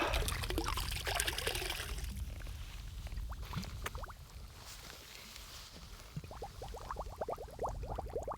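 Cold tap water pours out of a bottle outdoors on the Hengill trail in Iceland, splashing and gurgling steadily before thinning into a broken trickle of glugs and drips.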